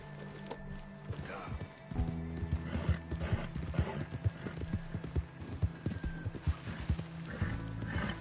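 Horse hooves clip-clop and gallop in a steady rhythm in Red Dead Redemption 2, with a neigh partway through, moderately loud against a quiet backdrop.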